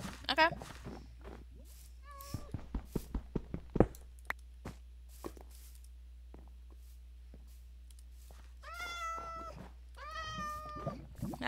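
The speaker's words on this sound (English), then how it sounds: "I like Minecraft cats" A cat in the video game Minecraft meows several times, short rising-falling cries heard clearly toward the end, with footsteps and a person talking earlier over a steady low hum.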